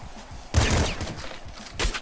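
Rapid machine gun fire in the video game Nuclear Throne, a loud, dense burst of shots followed by a second short burst near the end.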